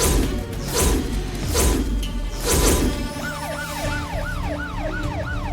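A wailing siren cycles up and down repeatedly, clear and fairly close, following several loud thuds and rumbling noise.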